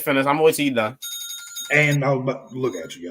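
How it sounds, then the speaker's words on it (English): Phone alarm ringing with a bright repeating electronic tone, sounding briefly between stretches of someone talking and continuing faintly beneath his speech. "That's my alarm."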